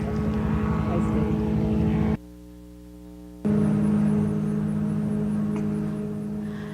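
Steady propeller drone of a light plane towing a hang glider, loud and close, cutting out briefly before returning.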